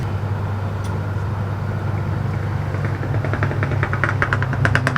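A 1956 or 1957 Chevy goes past outside a bus conversion, a low engine drone and rumble with a brief crackling, popping burst near the end.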